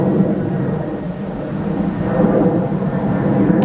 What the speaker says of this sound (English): That plane is so loud.